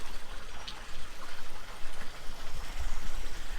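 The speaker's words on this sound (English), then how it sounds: "we've got to open up this drainage tap, and you can see it's going to chuck out a whole bunch of water over here now" Water gushes from an opened drainage tap on a farm pool in Portugal, a steady rushing, splashing flow heard up close with low rumbling, alone without talk.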